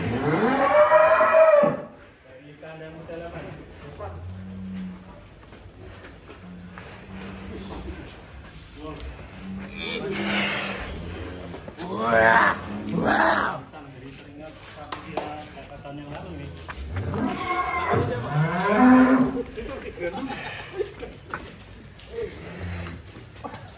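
A huge black Belgian Blue bull, a monster-sized animal in Indonesia, lets out a few deep moos and lowing calls up close, mixed with people exclaiming and talking nearby.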